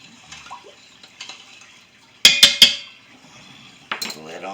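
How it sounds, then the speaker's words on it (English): Spoon stirring rice inside an Instant Pot, a burst of three sharp metallic clinks in quick succession amid quieter scraping and a brief later rattle, close to the listener. "Now I'm just going to mix this up a little bit."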